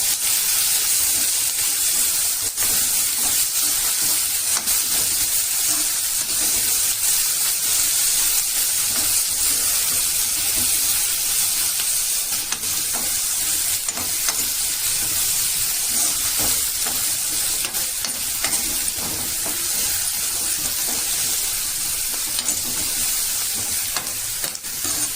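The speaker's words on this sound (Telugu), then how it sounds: "ఇప్పుడు ఆనియన్స్ కట్ చేసుకున్న ఉల్లిపాయ ముక్కలు వేసుకుంటున్నానండి" Chopped onions sizzle in hot oil in a pan, a steady bright frying hiss punctuated by faint scrapes of stirring, continuous and close with no voices.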